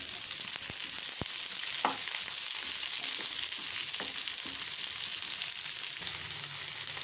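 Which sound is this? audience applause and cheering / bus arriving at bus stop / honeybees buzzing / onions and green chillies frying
onions and green chillies frying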